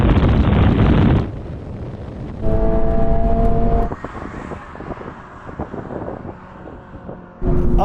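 Toyota GR86 and GT86 engines rev hard during a drag race, a loud roaring run that cuts off abruptly, then tonal engine notes climbing through gears amid wind buffeting, ending with another loud burst.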